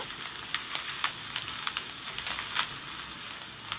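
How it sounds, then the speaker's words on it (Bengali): Chopped garlic sizzles and crackles steadily in hot oil in a pan, with sharp spatula scrapes and clicks of stirring breaking through the constant hiss; fairly close and continuous, no voices. "রসুনটাকে দিয়েও নেড়ে চেড়ে আমি এক থেকে দেড় মিনিট একটু ভেজে নেব"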